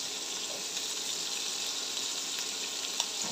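Chopped garlic, green chili and onion fry in hot oil in a home kitchen, giving a steady, even sizzle that carries on without pause or talk.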